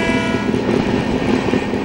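Cabin noise inside a Chinese bullet train running at 300 km/h, a loud, steady rushing roar with a low rumble and a faint high whine throughout, no voices.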